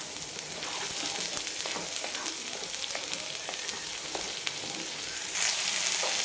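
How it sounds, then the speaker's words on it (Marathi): Chicken masala paste sautéing in a pan over a high gas flame, a loud steady sizzle with crackling bursts and occasional stirring scrapes, heard alone without talk. "छान फास्ट गॅसवर आपल्याला याला परतून घ्यायचं आहे"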